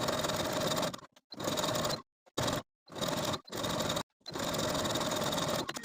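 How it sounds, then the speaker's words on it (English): A sewing machine stitches close to the inner raw edge of a jersey facing on a 1970s vintage wrap dress, running in several loud, steady bursts with short pauses between them. "Now I'm going to take it to the sewing machine and sew close to that inner raw edge all the way around for a nice finish"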